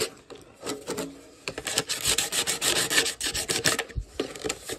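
Corners of a metal tin are roughed up with an abrasive, giving rhythmic rasping scrubs in quick back-and-forth strokes, close and fairly loud, with a brief pause between bursts.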